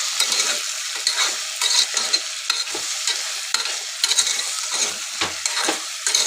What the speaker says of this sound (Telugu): ఇప్పుడు ఒకసారి మంచిగా కలుపుకుందాం.